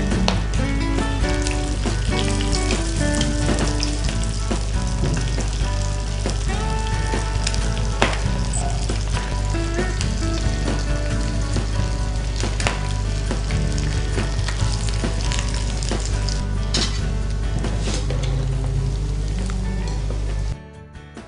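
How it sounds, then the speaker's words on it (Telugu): Mexican croquettes deep frying in hot oil, a dense, steady sizzle that runs loud and unbroken for about twenty seconds before cutting off abruptly at the end. "అండ్ డైరెక్ట్గా డీప్ ఫ్రై చేసుకోవాలి."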